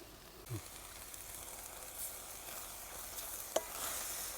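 A vegetable dish cooking in a pan on an Indian home stove gives a steady, faint sizzle while masala is stirred through it, with a few soft scrapes and a sharp tap near the end, no voices.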